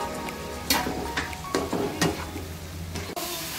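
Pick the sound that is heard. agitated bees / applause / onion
onion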